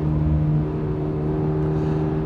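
A 2023 Toyota GR86 10th Anniversary Edition engine revs through a heel-and-toe downshift, a loud, close, steady tone with a brief shift in pitch partway through, and no talking.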